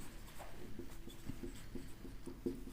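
Handwriting of a passive voice sentence, faint pen strokes and taps on paper in a short, uneven rhythm, close and quiet with no one speaking.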